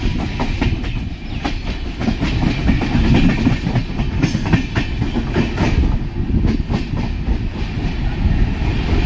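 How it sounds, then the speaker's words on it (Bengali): An AC passenger train pulling into Malda station, a loud, steady rumble with rhythmic clickety-clack of wheels over rail joints throughout, heard close from inside the train with no talk. "এখন ভাইয়া 3:05 ট্রেন ঢুকে গেছে আমাদের"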